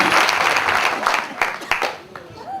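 Loud, sustained applause from a large audience at a mushaira poetry gathering in Mumbai, dense clapping throughout with a few sharper claps standing out.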